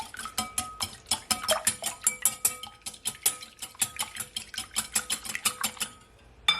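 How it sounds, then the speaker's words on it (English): An egg being whisked into pancake batter in a bowl: a rapid, steady clatter of a whisk striking the bowl sides, dozens of quick rhythmic taps for about six seconds, close and clear, with no talking. "now I'm just gonna firstly add my egg. Just gonna whisk it all in"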